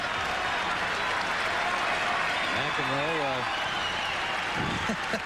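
A tennis crowd at the 1987 Dallas final between Mecir and McEnroe applauds steadily, a dense, sustained wash of clapping that fills the arena while someone commentator talks over it.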